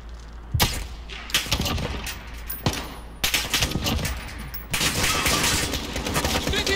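Gunfire from the video game Call of Duty Modern Warfare, with dense bursts of rapid shots and sharp cracks in close succession that stay loud and continuous, and game effects layered underneath.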